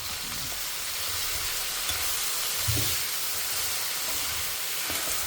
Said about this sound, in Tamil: ஸோ கீரையை போட்டு நல்லா வதக்கியிருக்கேன்